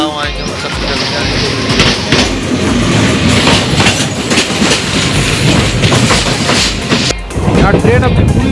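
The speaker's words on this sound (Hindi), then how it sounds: "यहाँ ट्रेन अपनी पूरी रफ्तार में" Garib Rath AC express train in India, between Kanpur and New Delhi, running at full speed with loud, steady rumble and rattling wheel clatter throughout, close and continuous.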